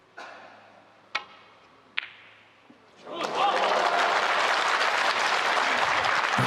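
Snooker crowd bursts into sustained applause after a brave pot by Ding Junhui at the 2025 International Championship, loud and continuous following a few sharp ball knocks.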